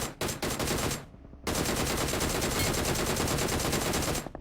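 Rapid automatic gunfire in a battle royale video game, loud and dense, with a short burst, a brief pause, then a long sustained stream of shots.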